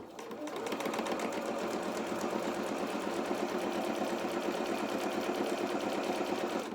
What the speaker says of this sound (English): Now we're just going to go in and we're just going to zigzag along this edge again